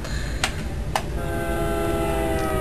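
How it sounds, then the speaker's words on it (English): Sustained train horn from Train Simulator sounding at a crossing, a steady multi-tone blast holding through the clip after two short sharp clicks near the start. "I'm coming into a crossing. That's why I am blowing the horn."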